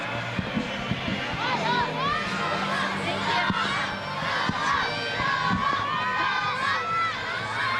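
A large, enthusiastic stadium crowd cheers at a soccer match in Cleveland, a dense, steady roar of voices with scattered shouts and whoops rising throughout, loud and continuous.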